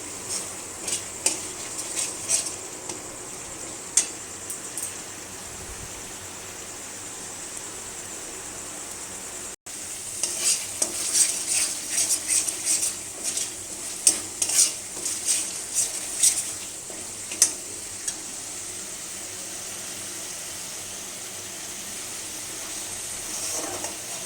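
Spice masala fries quietly in a pan while being stirred, with a faint continuous sizzle. Scattered scraping and clinking strokes from the stirring come and go, denser in the second half.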